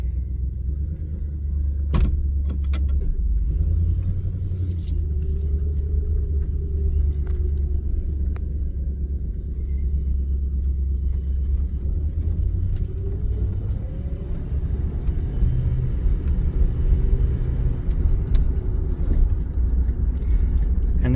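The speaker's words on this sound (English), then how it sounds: "you can probably hear it in the video, but it does have a bit of an exhaust leak" A 1975 Dodge Charger SE with a 360 V8 drives along, its deep, steady exhaust rumble rough from an exhaust leak and a loose muffler, with a few rising and falling revs and occasional light rattles.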